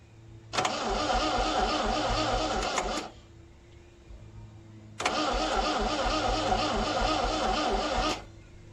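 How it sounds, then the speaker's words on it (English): Starter motor cranking the engine of a 1975 MG MGB, triggered directly at the solenoid; two steady whirring bursts of about three seconds each, separated by a short quiet gap, and the engine never catches. "I got the starter to spin"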